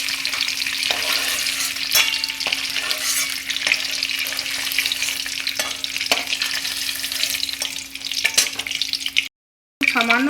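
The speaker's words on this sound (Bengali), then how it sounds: "পনিরটা তেলের মধ্যে হালকা করে ভেজে তুলে নিচ্ছি।" Paneer frying lightly in hot oil with a pinch of sugar, a steady close crackling sizzle with occasional stirring scrapes, continuous throughout before a brief silent gap near the end.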